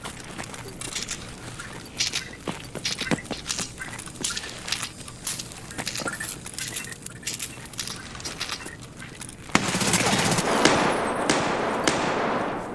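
Rapid bursts of gunfire from a suppressed weapon in a shooter video game, a string of sharp short shots at steady pace, then a louder, denser stretch of noise near the end.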